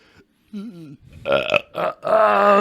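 A deliberate human burp, drawn out and voiced like an impression of a cartoon character, comes in several loud, close bursts after a short stretch of talk.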